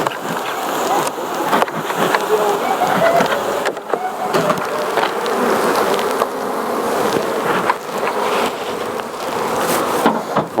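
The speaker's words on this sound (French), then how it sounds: "on voit un petit peu le travail des abeilles" Bees work inside a transparent-walled beehive in its first production year in the Kaysersberg valley, a dense, loud buzzing drone with scattered knocks and shifts, while a person speaks at times.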